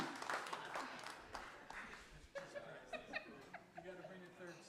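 Applause and chuckling from a live concert audience mixed with a performer's talk, claps rising early then thinning out as laughter and speech continue over the rest.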